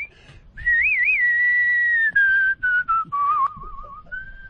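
Someone whistles the melody of a film theme, a clear, close tune with wavering warbles and gliding pitch over faint background noise.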